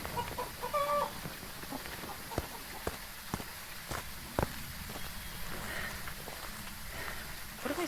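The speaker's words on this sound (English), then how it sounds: "I wish you can actually see the chickens. You just get to hear them." Chickens cluck in a farmyard setting, short irregular clucks and squawks scattered over a steady background hiss, with occasional sharp knocks, at moderate distance.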